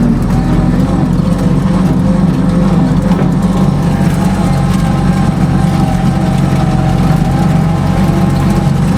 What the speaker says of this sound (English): I'm just basically driving around to show you that the truck drives.